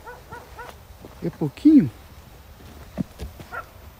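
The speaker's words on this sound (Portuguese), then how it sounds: "Por que tem cachorro aqui?" A dog in a sugarcane field at night gives a few short barks and yelps, interspersed between people's hushed talking nearby.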